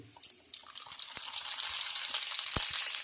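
Mustard seeds and cumin hit hot oil while batata poha is being made, breaking into a bright, hissing sizzle after a brief pause, with scattered crackling pops.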